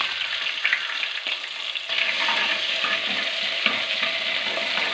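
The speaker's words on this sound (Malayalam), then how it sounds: "ഇഞ്ചി വെളുത്തുള്ളി ചതക്കിയത് അതൊന്ന് നല്ല സ്മെല്ലായി വരുന്നത് ഒന്ന് വഴറ്റി കൊടുക്കട്ടെ" Crushed ginger and garlic sauté in hot coconut oil with mustard seeds for an okra curry, making a steady, close sizzle that grows fuller and louder partway through, with light spatters and no talking.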